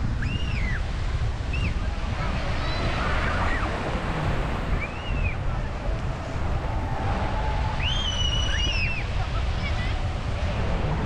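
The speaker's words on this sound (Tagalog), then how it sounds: "Grabe lakas ng hangin." Steady, heavy wind roars across the microphone at San Fabian beach, Pangasinan, with surf rumbling underneath, and a few faint high voices or calls break through.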